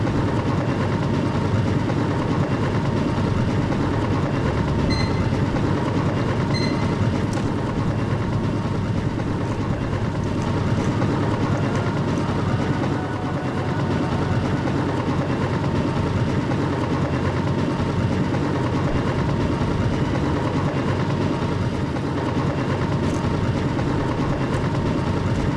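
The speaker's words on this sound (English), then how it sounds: "Helicopter." A steady, droning helicopter engine from the video game Mercenaries: Playground of Destruction runs loud and unbroken throughout, with a low rumbling hum and no voices.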